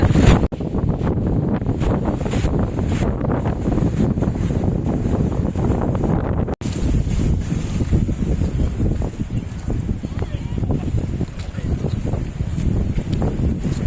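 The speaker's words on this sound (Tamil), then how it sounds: "அப்படியே அலை அடிக்குது, அப்படியே சாடுற மாதிரி வருதுங்க மேலே" Sea waves crash on the shore during a bike ride from Tiruchendur to Manapadu. The roar is loud and continuous and heavily buffeted by wind on the microphone.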